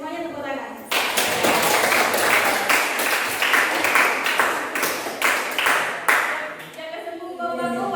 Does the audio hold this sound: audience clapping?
yes